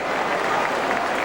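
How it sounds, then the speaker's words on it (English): A stadium crowd at a 2001 Sydney versus St Kilda AFL match roars loudly and continuously, a dense wash of cheering and applause. "That's a bigger roar than Tony Lockett got when he kicked his 15th millionth goal"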